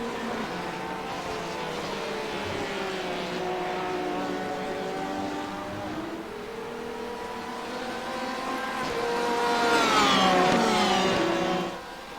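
Mazda Miata race cars lap the Okayama circuit in sim racing, several engines whining and rising and falling through the gears, growing louder as they close in near the end.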